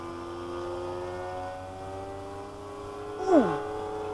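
Nitro engine of an old-school RC P-51 Mustang model plane drones steadily at the airfield, its tone holding fairly even before a brief louder surge and pitch shift near the end.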